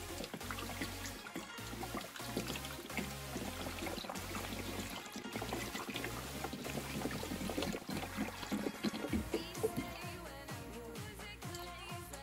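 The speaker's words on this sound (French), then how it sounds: "Et là on va remplir jusqu'à ce qu'il y ait de l'eau qui sort par ce bouchon de purge." Coolant water pours steadily into the cooling system of a BMW E46 during bleeding, a continuous gurgling trickle with low rhythmic rumble underneath, close and fairly loud throughout.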